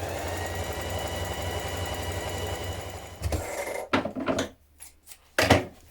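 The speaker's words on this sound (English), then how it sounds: "Now ease stitch around the top curve of the sleeve." A sewing machine runs in a steady rapid whir while ease stitching around the top curve of a long coat's sleeve, then stops; short bursts of stitching and handling clicks follow.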